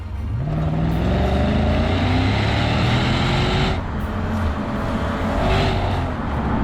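A loud Lexus IS500 sports sedan engine roars steadily through its flapped exhaust, revving and rising in pitch twice, a deep throaty rumble close by with no voices.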